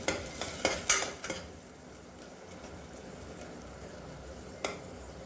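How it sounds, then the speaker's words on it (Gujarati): A few quick scraping stirs of a spoon in a pan of green moong dal curry with salt and garlic chutney at the start, then a quiet stretch with one more faint clink near the end. "નાખી અને ત્યારબાદ પ્રોપર મિક્સ કરી દઈશું"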